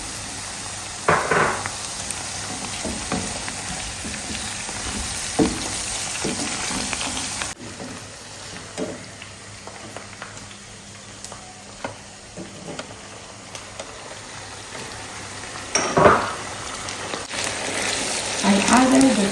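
Tomato paste goes into a stew of garden eggs and cocoyam leaves, giving a soft, continuous sizzle with intermittent spoon scrapes and stirring clatter in a home kitchen, and occasional voices in the background.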